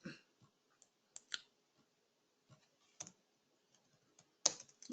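Computer keyboard typing in sparse bursts of sharp clicks, close and fairly quiet, with short pauses between keystrokes and no speech.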